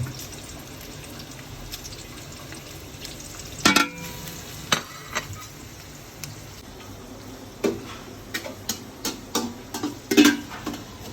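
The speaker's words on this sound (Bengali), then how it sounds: "তেজপাতা, দারচিনি, এলাচ, লবঙ্গ, এটাকে তেলের সাথে একটু ব্রাউন কালার করবো" Bay leaf, cinnamon, cardamom and clove browning in oil for Bangladeshi nehari: a faint, steady low sizzle broken by scattered sharp ticks and clinks of a spoon against the pot, no voices.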